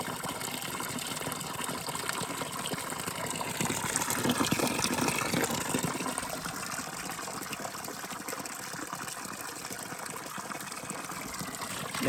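Holy spring water at Sarmizegetusa Regia flows in a steady close gush, swelling slightly for a moment before settling back to a constant rushing stream, with no one talking.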